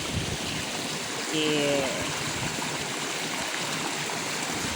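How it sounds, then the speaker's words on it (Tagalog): Broadband rushing flow of a canal lined with wild taro in the Philippines, steady and fairly loud throughout, with windy buffeting mixed in and a brief spoken word near the middle. "The water's noisy."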